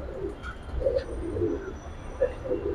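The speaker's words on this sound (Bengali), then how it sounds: "দেখাই দিয়েছি কবুতরটা ধরে আমি।" Pigeon held in the hand coos in soft, low repeated bursts, close to the microphone, with a faint steady background hum and no talking.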